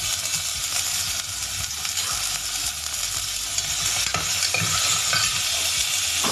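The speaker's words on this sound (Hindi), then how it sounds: "सारे जो वेजिटेबल है ना उनको हम यहाँ पे कुकर में डाल देंगे।" Mixed vegetables sizzle and fry inside a pressure cooker, with steady bright hissing and repeated scraping and clinking as they are stirred, and no talking.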